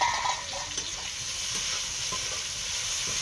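Cauliflower frying in a pan: a steady, even sizzle and hiss, with faint occasional ticks and pops, heard alone at moderate volume.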